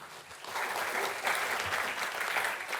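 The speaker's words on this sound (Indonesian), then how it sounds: "Tepuk tangan sekali lagi." Audience applause at an Indonesian talk-show panel event, a steady broadband roar of many hands clapping that swells slightly after the first half second and holds evenly to the end, with no talk over it.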